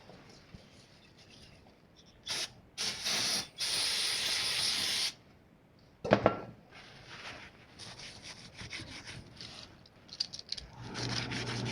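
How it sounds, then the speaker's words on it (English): Several bursts of aerosol carburetor cleaner hiss onto an engine cylinder, a short one then a long steady blast, followed by quieter rubbing and scraping. "I'm going to clean the sides up with some carburetor cleaner."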